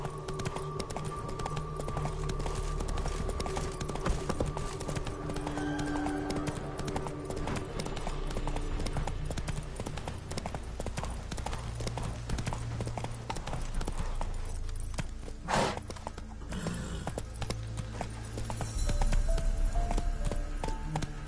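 A horse gallops in The Witcher 3, a rapid, steady clip-clop of hooves close and loud throughout, over a low game soundscape.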